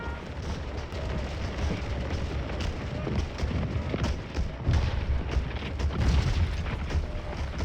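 Repeated cannon fire from a Civil War battle in the video game Scourge of War Gettysburg, a steady run of dull booms and rumbling artillery reports layered over continuous low battlefield noise, no talking.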